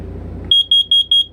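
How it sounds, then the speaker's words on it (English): Carbon monoxide detector being tested inside an RV, sounding four sharp, shrill electronic beeps in an even rhythm after a moment of low background hum, close and loud. "So that was my test of the carbon monoxide detector"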